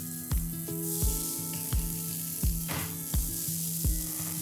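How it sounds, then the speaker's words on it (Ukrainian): Burger buns fry in a hot pan with a steady sizzle, broken by a series of evenly spaced soft thumps as they are pressed down repeatedly. "І обсмажуємо на розігрітій сковорідці до хрусткої скоринки"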